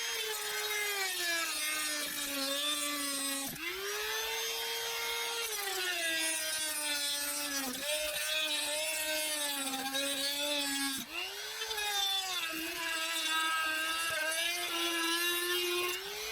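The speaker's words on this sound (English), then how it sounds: "We'll use the Ryobi Dremel tool." A Ryobi rotary tool cuts into a truck floor with a sustained high-pitched whine that repeatedly dips in pitch as it bites and then recovers, steady and close.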